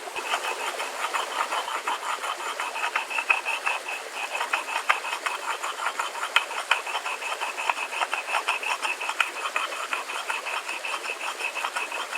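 Grinding a surface flat enough to cook an egg or pancake on produces a rapid, regular rasping pulse that repeats evenly throughout at a moderate, unchanging level.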